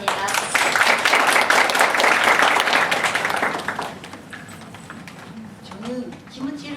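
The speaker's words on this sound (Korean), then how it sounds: "박수 부탁합니다." Audience applause at a Korean-language speech contest before the last presenter begins, a dense burst of many hands that fades out after about four seconds, followed by quieter room sounds and a voice.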